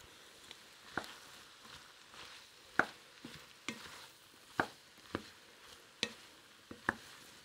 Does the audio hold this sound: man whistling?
no